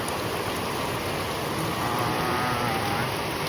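Heavy rain pours down in a steady, dense hiss that fills the whole moment without a break.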